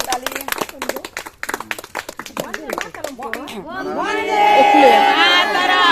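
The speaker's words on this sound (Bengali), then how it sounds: "হাততালি হাততালি সবাই হাততালি দাও" At an Independence Day flag hoisting at a family home, a group claps for about three seconds in quick, sharp bursts, then the clapping gives way to voices singing together.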